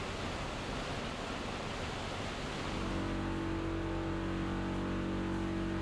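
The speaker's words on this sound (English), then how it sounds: "which contains 2 large grinders that cut the bottles up into small pieces, called flakes" Two large grinders at a plastic bottle recycling plant cut bottles into flakes, making a loud, dense, continuous roar that settles into a steadier, humming mechanical drone partway through.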